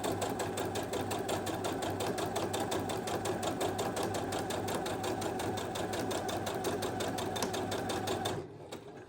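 A sewing machine stitches a quilt in one steady, fast, loud run of rapid stitches that continues unbroken for most of the stretch before stopping abruptly near the end.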